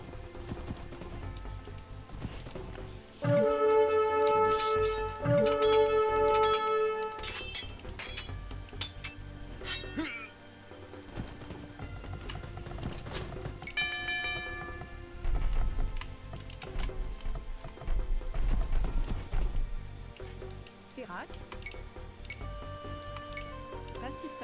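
Horses' hooves clip-clop steadily in the video game Age of Empires II, mixed with metallic clinks and chiming game tones. The hoofbeats swell and fade in busy stretches, and a voice talks at times.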